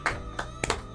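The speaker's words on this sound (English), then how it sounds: "The clapping." Three quick hand claps, close and moderately loud, with short gaps between them.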